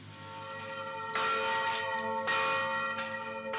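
Church bells ring at noon in Port-au-Prince, Haiti, as bells across the country sound together: rich, resonant strikes every second or so, each swelling over a sustained humming ring, loud and clear with no talk.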